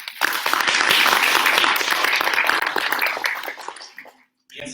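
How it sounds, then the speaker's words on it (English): An audience at a lecture bursts into applause, dense clapping that swells, holds for a few seconds, then fades out, with some voices mixed in. "please accompany him with a round of applause"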